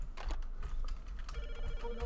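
An electronic telephone ring in a video game trills in short repeated bursts, with some clicking or tapping mixed in, fairly quiet.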